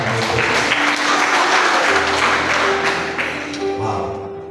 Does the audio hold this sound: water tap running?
no